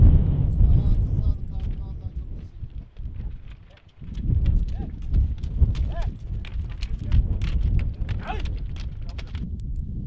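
Pack horses set off along a mountain trail in the Aladağ range, their hooves clopping in an uneven, continuous patter under the talk of nearby people.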